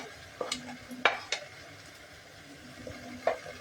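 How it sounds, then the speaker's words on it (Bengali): Spices and ground pastes are stirred into a banana flower curry cooked without oil, with soft sizzling under sporadic sharp clinks and scrapes of a spoon against the pan. "এগুলো দিয়ে প্রথমে নাড়তে থাকবো"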